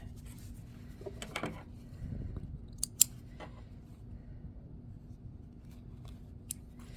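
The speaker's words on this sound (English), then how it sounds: "now we're going to cut this stitch right here with our seam ripper" A seam ripper cuts through a chain stitch on a pants hem, making quiet, close snipping and scratching ticks in short scattered bursts over near silence.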